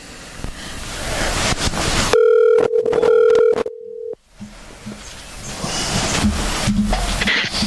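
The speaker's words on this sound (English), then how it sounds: "I'll let you plug it in. All right, and you can dial him up." A telephone dials out on a call: a steady dial tone followed by a quick run of touch-tone beeps, loud and close, framed by windy background noise.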